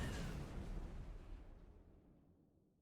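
Weapon fire on a weapons testing platform in the game StarMade, a single booming blast that rolls away into a long fading rumble, faint and distant.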